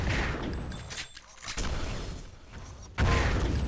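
Rocket launcher blasts in the arena shooter Sauerbraten during a one-on-one duel, dense bursts of explosive fire with a sharp, loud hit near the end, over continuous game noise.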